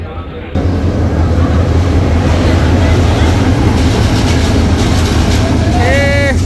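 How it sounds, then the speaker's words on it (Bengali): A loud, continuous low rumble of a train approaching a station at night, with a faint horn-like tone rising near the end. "এই এটা ট্রেন আইতাছে"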